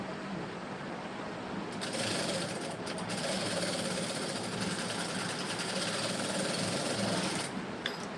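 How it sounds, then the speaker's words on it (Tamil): An electric sewing machine stitches a lined blouse, giving a fast steady mechanical whir and rattle close to the microphone that runs almost unbroken, briefly easing before picking up again, with no talking. "ரெண்டு பக்கமே மடக்கிட்டு தான் தைக்கணும்."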